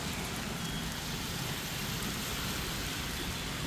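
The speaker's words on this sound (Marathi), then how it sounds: "मुंबई उपनगरामध्ये सकाळपासून पावसाची संततधार सुरू असल्याचं आपल्याला पाहायला मिळते।" Steady, heavy rain pours continuously over a waterlogged road in Mumbai's eastern suburbs near Bhandup's LBS Road, forming an even wash of noise with no voices.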